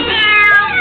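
A hungry cat meows loudly and steadily while being fed leftover homemade sushi, a single drawn-out cry close by with no talk over it.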